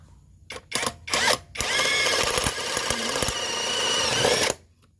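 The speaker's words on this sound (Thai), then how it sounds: "เจาะไม้ลูกค้าดูนะครับ" A 168-volt cordless battery drill bores through wood: a few short whirring bursts start it, then a loud, close, steady whine runs for about three seconds before cutting off.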